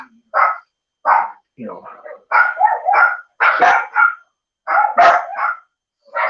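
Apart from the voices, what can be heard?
dogs barking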